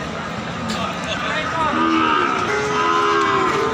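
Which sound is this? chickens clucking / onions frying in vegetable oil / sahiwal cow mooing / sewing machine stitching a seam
sahiwal cow mooing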